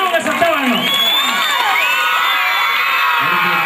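A crowd of children cheering and shouting loudly, high excited voices overlapping continuously, with scattered clapping mixed in.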